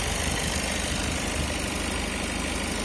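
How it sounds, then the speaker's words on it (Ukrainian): A Citroen Jumper van's diesel engine idles steadily up close, a rough, even rumble with faint knocking and no speech. "Бачите, як чисто працює мотор"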